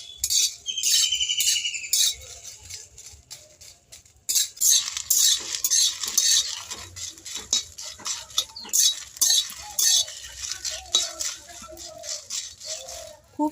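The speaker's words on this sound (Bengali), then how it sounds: "লঙ্কাগুলোকে এইভাবে অনবরত নাড়তে হবে, লঙ্কাগুলো যাতে কালো হয়ে পুড়ে না যায়।" Dried chilies are dry-roasted in a pan and stirred continuously, producing rapid clinking and scraping of a utensil against metal in uneven bursts, close and fairly loud, with brief pauses between rounds of stirring.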